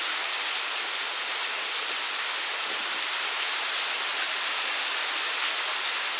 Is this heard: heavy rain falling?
yes